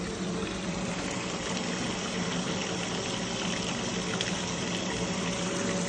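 Dirty water gushes steadily out of an FRP water filter tank during backwash, a loud, continuous rushing flow with a low pump-like hum underneath, unbroken for the whole stretch.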